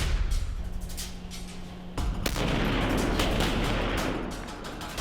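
A sniper rifle fires once during military marksmanship training in snowy, harsh weather: a sharp, loud crack followed by a long, rolling rumble that fills the air outdoors.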